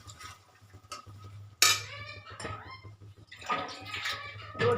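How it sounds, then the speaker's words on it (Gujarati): Water is poured into a simmering paneer gravy in a pan on a gas stove, a short splash and gurgle with clinks of utensils against the pot. "હવે તેમાં થોડું પાણી ઉમેરીશું."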